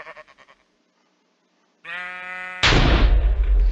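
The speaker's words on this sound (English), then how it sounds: "Watch this. I'm gonna be a sheep." After a few short clicks and a pause, one clear, loud sheep bleat rings out in a Minecraft-style Hide and Seek game on The Hive server, followed abruptly by a loud burst of noise.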